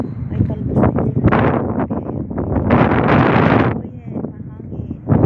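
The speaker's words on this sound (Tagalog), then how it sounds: "Mahangin." Gusty wind buffets the microphone in loud, rumbling bursts that rise and fall throughout.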